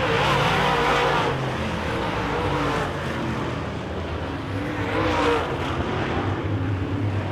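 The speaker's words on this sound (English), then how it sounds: "That's an awful good race car." A Wissota late model race car fitted with a crate engine roars past on a dirt oval during a feature, loud engine drone swelling and fading as cars pass, with a second surge of engine noise midway.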